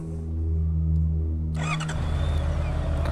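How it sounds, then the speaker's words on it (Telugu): A 2022 Honda CBR 650R motorcycle engine starts with a sharp crank and catch, then settles into a steady, fairly quiet idle close by. "సో బండి ఒకసారి ఆన్ చేద్దాం."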